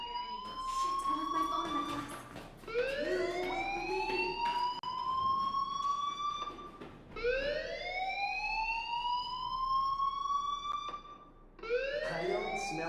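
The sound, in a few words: fire alarm ringing in video game Life is Strange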